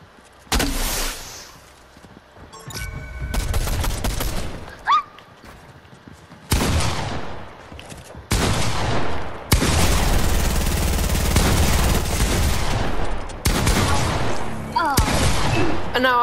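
Gunfire in a Fortnite Bedwars match, with loud bursts and abrupt crashes arriving in waves between quieter stretches, dense and close, overlaid with other game effects.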